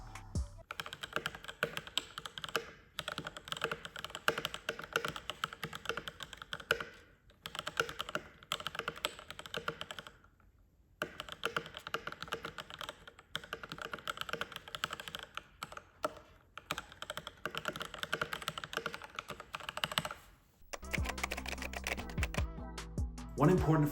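Keychron K6 mechanical keyboard being typed on, bursts of fast crisp key clicks with short pauses between runs, close and fairly quiet, ending with a brief different sound.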